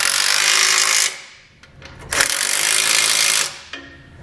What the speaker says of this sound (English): we can go back and tighten them all down using a 19mm socket.